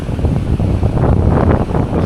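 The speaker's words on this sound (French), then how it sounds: "Le vent commence bien à lever." Wind rises over the sea at a coastal spot, buffeting the microphone in loud, continuous rumbling gusts with faint surf beneath, no voices.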